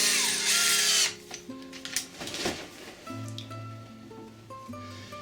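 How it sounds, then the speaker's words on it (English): A power drill with a 16mm auger bit whirs loudly for about a second as it bores into wood for a stick chair, then stops, leaving quieter tones behind. "We'll then take a drill with this is a 16mm bit"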